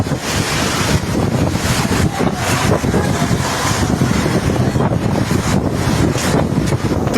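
Heavy rain with strong wind along the Chennai–Bengaluru national highway, a loud continuous roar of gusting wind buffeting the microphone over a rushing downpour, with no voices.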